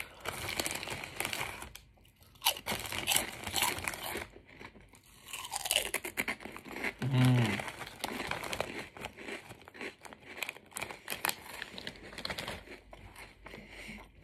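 Tyrrell's sweet chilli and red pepper lentil crisps are crunched and chewed up close, with dense crackling bites and bag crinkling that carry on throughout.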